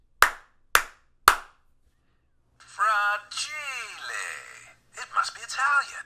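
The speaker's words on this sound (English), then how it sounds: "And let's clap three times." Three sharp, evenly spaced hand claps close to the microphone, made to trigger a Christmas Story Clapper, followed by people talking.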